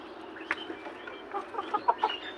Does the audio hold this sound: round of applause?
no